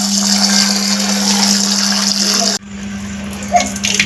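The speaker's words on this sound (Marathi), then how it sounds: "मस्त धुवून घेतो आले." Fresh ginger being rinsed under a running tap in a village kitchen, a steady loud gush of water that cuts off partway, followed by quieter splashing and handling sounds.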